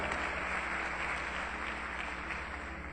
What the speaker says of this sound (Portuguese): Pode dar uma salva de palmas a Ele?